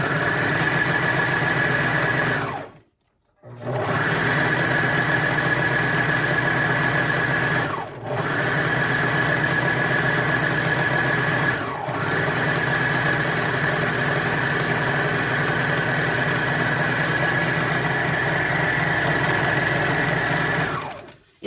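A sewing machine stitches elastic onto a fabric spaghetti strap, running in a steady, close whirring hum with a few brief pauses between runs.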